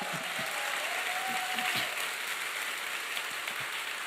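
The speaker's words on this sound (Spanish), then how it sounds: "Dale un fuerte aplauso al Señor." A church congregation applauds during a Spanish-language sermon, a soft, continuous hiss of distant clapping that resembles rain, with faint low voices and a thin tone underneath.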